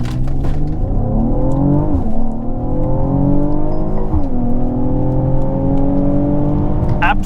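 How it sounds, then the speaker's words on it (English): A Mercedes-AMG engine revs hard and loud with the traction control in Sport, left foot on the brake for a launch, its pitch repeatedly climbing, dropping briefly near two and four seconds, then climbing again in a steady continuous roar. "revving the motor."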